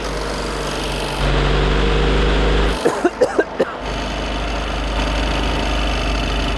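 BMW and Porsche engines drained of oil and held at 3,000 RPM, making a loud steady drone that briefly dips and then resumes, with several sharp knocks in the middle, close and continuous.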